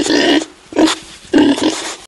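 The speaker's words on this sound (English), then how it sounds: "The pig makes an oink sound while rolling in the mud." Three separate pig oinks while the pig rolls in mud, loud and close, each a short grunting squeal with brief pauses between them.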